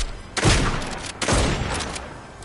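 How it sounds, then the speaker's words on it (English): Two heavy booming blasts from a shotgun in the Fortnite video game, each a loud full-range burst that rolls on and decays, spaced about a second apart. "That new shotgun, I have to admit, not as bad as I thought. It's faster."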